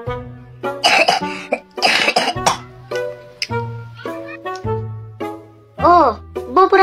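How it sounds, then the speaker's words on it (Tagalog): A child coughs in repeated harsh bursts at close range, mixed with a voice and background music in a home setting. "Inuubo ka na, ha?"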